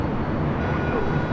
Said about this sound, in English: That was the flight heading to Denver.